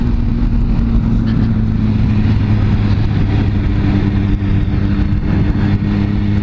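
A motorcycle engine runs at steady speed while riding and passing other bikes on the road, giving a loud, continuous drone with heavy wind and road rumble and no pauses.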